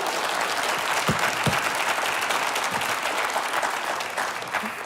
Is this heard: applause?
yes